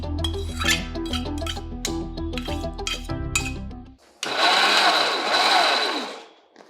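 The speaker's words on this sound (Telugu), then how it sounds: "అది కూడా వేసి గ్రైండ్ చేసేద్దాం" A mixer grinder whirs loudly in a sudden burst while grinding soaked ingredients and cooled radish pieces into a coarse chutney. It follows a few seconds of clinks and clatter, then fades out near the end.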